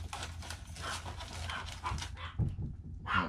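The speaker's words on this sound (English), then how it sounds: "the dogs are going off." Dogs barking and panting indoors during an unboxing, with loud, busy sound filling most of the stretch, a brief louder burst near the end.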